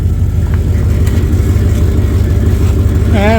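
A rebuilt 5.9L Magnum V8 in a Dodge Durango idles loudly and steadily up close, a constant low rumble running unbroken throughout, with a rising whine joining near the end.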